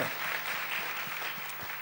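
A congregation applauds the worship team at a church service, a soft, distant spread of clapping with a faint steady hum beneath it.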